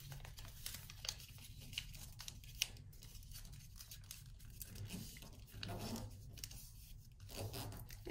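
Paper being squash folded for an origami crane, soft close crinkling and rustling with small taps over a faint low background hum, quiet and uneven with no speech.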